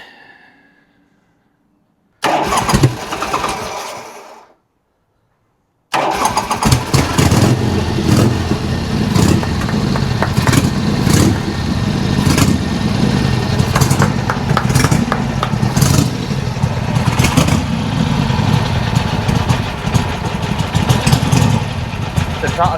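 A Harley-Davidson Sportster motorcycle engine with a freshly adjusted float needle, heard in short bursts and then catching and settling into a loud, steady, close idle.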